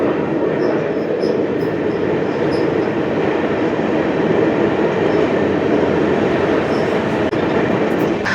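The Amrita Express rolls along near Munroe Island in Kollam district, a loud continuous rumble of wheels and carriage noise heard from inside, steady throughout with faint high squeals.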